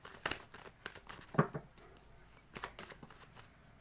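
Tarot cards being shuffled by hand, a soft close series of papery riffles and slides, quiet with no voice over it.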